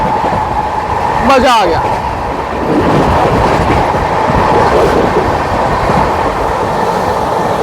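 Odisha Sampark Kranti express train racing at high speed while overtaking another train, a loud steady rail roar with a brief whistle-like sweep early on, as heard from on board, under a short spoken remark.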